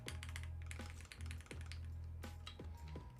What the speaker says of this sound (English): this keyboard sounds good.